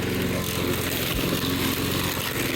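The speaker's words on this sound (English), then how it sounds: "It's just a regular lawnmower." A regular push lawn mower drones at close range as it cuts through forest brush. The engine runs loud and steady throughout, with no one speaking.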